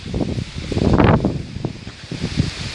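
Strong wind gusting outdoors, a loud rushing buffet that swells to a peak and then eases into softer rustling, close to the microphone.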